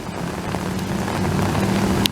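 Heavy rain pours steadily and loudly in a flooding downpour on a street where water is rising fast, a dense continuous hiss with no voices.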